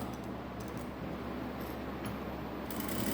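A sewing machine stitches a patchwork blouse with a border, sewn without canvas backing, in a steady, quiet mechanical whir that runs evenly without pause.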